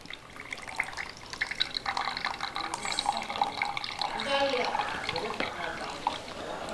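Freshly blended weight-loss juice poured from a mixer jar, a steady liquid trickle and splash running close and continuous, with a voice talking over it.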